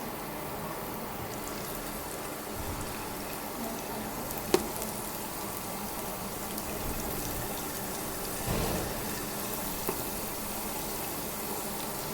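Chillies frying in ghee with ginger and garlic for Hyderabadi daal, a soft steady sizzle and crackle throughout, with a faint clink partway through.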